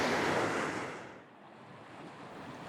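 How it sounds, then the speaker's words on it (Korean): Mountain stream water rushing down the Geumdang valley in a Pyeongchang forest, a steady loud broadband wash that eases slightly midway, with no voices. "금당 계곡이 그대로 이렇게 내려가는데 특히 물소리 아주 시원하고 좋습니다"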